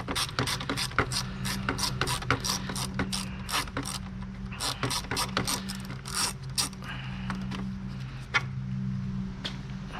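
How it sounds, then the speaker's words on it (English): Ratchet wrench backing out a T25 Torx screw holding the fan shroud on a BMW E46 3 Series, a fast run of close, crisp pawl clicks in bursts with brief pauses over a low steady hum. "So I'm going to thread out this screw."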